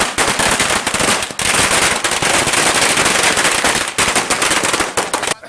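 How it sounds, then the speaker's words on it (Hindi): Celebration fireworks and firecrackers burst outside a district Congress party office in Bihar, a loud, dense string of rapid crackling pops with only brief pauses, going on without a break. "एठम आतिशबाजी जमकर भेल जिला कांग्रेस कार्यालय में और लहरिया टावर पर से खूब आतिशबाजी भेल"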